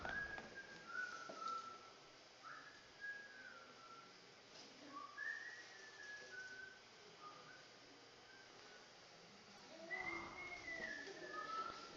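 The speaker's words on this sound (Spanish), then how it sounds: "Chicos, qué bonito chiflan," Students whistling in a classroom, several thin high melodic whistles rising and falling at moderate distance over a low room hum, with brief pauses between phrases.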